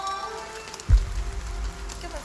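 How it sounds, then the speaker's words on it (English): Rain falling along the Suzhou River in Shanghai, a steady wash of drops with a low rumble of passing city traffic that swells midway through, no voices present. "I hear the sound of rain, the sound of traffic."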